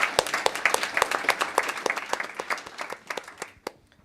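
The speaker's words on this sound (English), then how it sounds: "Round of applause for this panel," Audience applause for a panel at a grid innovation event: dense, close clapping that starts strong and thins out over a few seconds.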